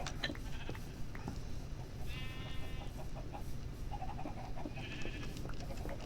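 Blue sheep in Minecraft bleat several times, short wavering cries scattered across the stretch, some overlapping, over a busy background of game noise and clatter.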